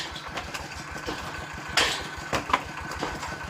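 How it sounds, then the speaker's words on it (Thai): A small single-cylinder diesel engine chugging steadily with a regular low thump, fairly quiet, with a few sharper clanks and knocks over the running. "ใช้เครื่องยนต์ดีเซลสูบเดียวครับ"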